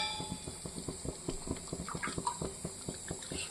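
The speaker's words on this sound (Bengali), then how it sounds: "আমি একটু জল দিয়ে দিচ্ছি।" Water poured into a pan of spices being fried in oil, a steady running splash with light metallic clinks and rhythmic tapping, close and continuous with no talk.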